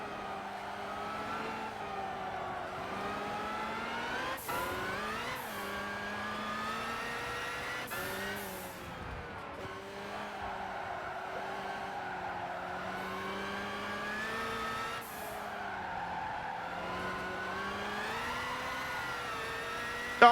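Supercars including Zondas and a Miura race in Gran Turismo 5, engines droning and whining steadily with rising and falling pitch as they rev and shift, a continuous moderate game soundtrack.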